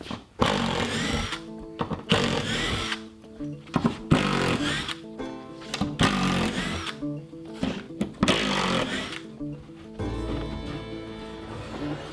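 Power drill backing screws out of plywood, whirring in repeated loud, close bursts of a second or so with short gaps, a final lower rumble near the end.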